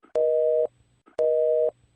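A phone call cutting off after the handset is dropped gives two identical steady electronic beeps, each about half a second long and separated by a short gap, clear and fairly loud with nothing else behind them.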